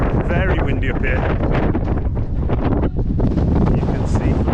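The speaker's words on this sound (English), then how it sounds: "Very windy up here." Heavy wind buffets the microphone with loud, continuous rumbling gusts on the Wales Coast Path between Colwyn Bay and Conwy, nearly masking a voice that speaks underneath.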